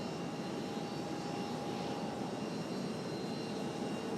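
Frontier Airlines jet on its takeoff roll from runway 5 left at Raleigh Durham, a steady broadband engine roar with a faint whine, continuous and fairly distant, heard alone.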